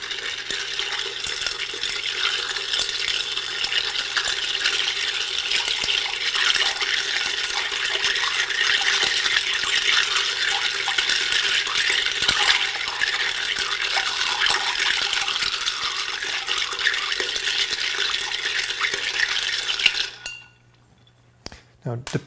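Scotch cocktail stirred in a mixing glass, a steady close clinking and rattling of ice and spoon that runs continuously for about twenty seconds before stopping abruptly.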